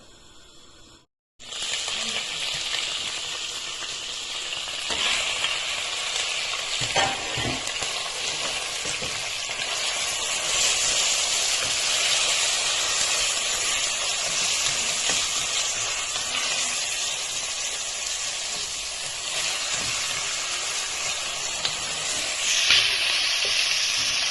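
Meat sizzling steadily in a pot with onions, carrots and potatoes, a loud continuous hiss of frying that runs unbroken for about twenty seconds, with occasional stirring clatter and no talk.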